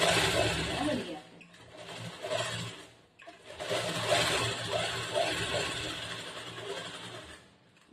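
A sewing machine stitches blouse fabric in short bursts of rapid whirring, stopping briefly between runs, with someone talking over and between the stitching.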